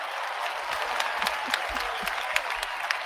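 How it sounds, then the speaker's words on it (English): Light applause from a small group during a sports talk show, a thin patter of claps running steadily throughout at moderate level with no one speaking. "I gotta give her a little round of applause for"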